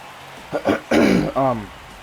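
A person clears their throat and coughs a few times in quick succession, close and fairly loud.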